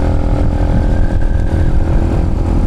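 A Chinese motorcycle engine droning steadily while riding in traffic, a continuous loud low rumble with no speech over it.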